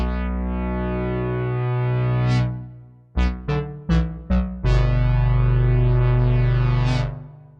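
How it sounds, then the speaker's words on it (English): Expressive E Osmose synthesizer playing sustained, harmonically rich tones with distortion-like effects: a long held note, a sudden drop, then a run of short staccato stabs before a loud sustained note returns, alone without voices. "you can get a range of different tones and timbres, including those you might expect from your average synthesizer"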